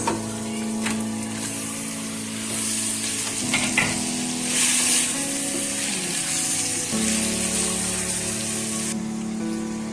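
Mutton pieces with turmeric sizzle steadily while sautéing for Hyderabadi mutton biryani, a loud continuous fry with occasional stirring scrapes, heard alone without talk.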